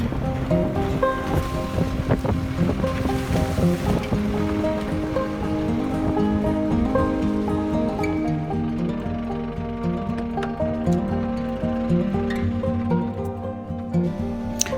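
The Alaknanda River rushes past Dhari Devi Temple at Gupta Kashi in a steady, close, broadband roar of water with wind buffeting the microphone. Sustained tonal sounds ring over it.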